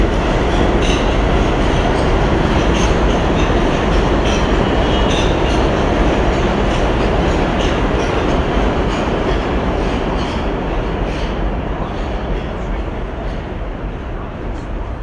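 A train rolling along tracks close by, loud and continuous, with a dense rumble, rhythmic clicks of wheels over rail joints and faint squealing, easing slightly toward the end.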